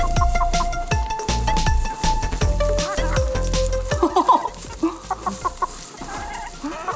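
Chickens at a farm-style ranch exhibit by a pier cluck and squawk in repeated bursts close by, with a few short sharp calls standing out over light background noise.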